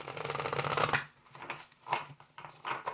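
A tarot deck being shuffled, a fast riffling flutter for about a second, then a few separate soft slaps and taps as the cards are cut and squared, close up with no talk.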